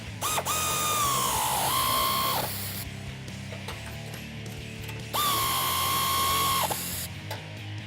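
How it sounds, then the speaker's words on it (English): Ratchet with a 16mm socket tightening bracket hardware on a black Rough Country bull bar for a 2016-2019 Toyota Tacoma: two close, loud runs of fast clicking, each a couple of seconds long, with a pause between. "align our bull bar and tighten down all of the hardware. We're going to start with the two brackets. For that, it's a 16mm socket and a 17mm wrench"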